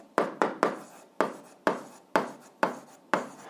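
Equations written out for an 8th-grade algebra exercise, heard as eight crisp, close strokes of chalk or pen on a board or surface, each a short scratchy tap in an uneven rhythm.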